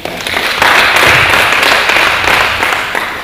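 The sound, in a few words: audience applause in a conference hall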